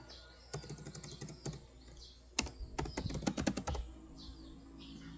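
Someone types a website address on a computer keyboard: bursts of quick, close key clicks, a short flurry first, then a pause, then a denser run of taps.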